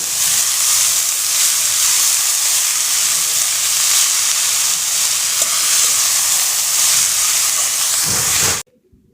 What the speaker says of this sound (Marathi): आता आपण ही कांदा पात घालूयात आणि पात छान परतून घेऊयात